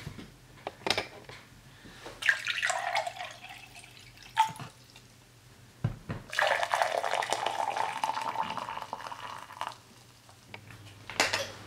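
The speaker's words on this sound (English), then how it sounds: "pouring 1 cup of hot water and 1 cup of cold water in no particular order" Water poured into two cups, first cold and then hot, in two separate bursts of splashing and trickling with faint drips and clinks between them, close by in a quiet room.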